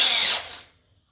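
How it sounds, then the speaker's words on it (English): A tiny drill bit bores straight through at a marked spot, a loud high-pitched whine lasting about half a second before spinning down and fading to quiet. "go through with this little tiny drill bit first."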